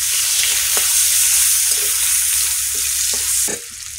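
Onion, garlic and bay leaf fry in hot oil for a prawn malai curry, giving a loud, steady sizzle with a few soft stirring knocks near the end.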